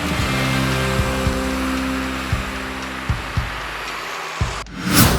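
A Peugeot 301 with a 1.6 HDi diesel engine drives along, its steady cabin hum and road roar punctuated by a few soft thumps before a brief rushing burst near the end.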